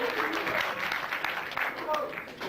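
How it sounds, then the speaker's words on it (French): Applause from a student audience at a 1997 political science institute lecture in Lyon: steady, fairly dense clapping heard from some distance, with faint voices underneath. "Vous pourriez l'applaudir, il est quand même sympa"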